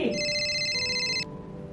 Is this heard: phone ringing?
yes